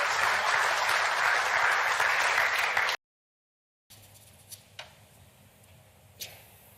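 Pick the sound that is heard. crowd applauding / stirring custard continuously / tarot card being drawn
crowd applauding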